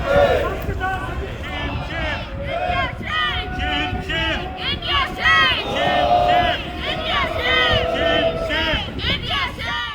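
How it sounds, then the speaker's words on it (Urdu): Protesters outside the Indian consulate in Manhattan chant slogans against a hijab ban in India and for a Khalistan homeland, a loud, dense crowd of voices shouting in rhythmic bursts without pause. "بھارت میں حجاب پر پابندی اور خالصے کے سکھوں کے لیے الگ وطن خالصتان کے مطالبے پر نعرے بازی بھی ہوئی"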